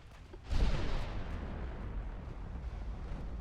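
Warship main guns fire in the naval battle game Ultimate Admiral Dreadnoughts, a single heavy boom that cuts in sharply and then rolls on as a long, loud rumble.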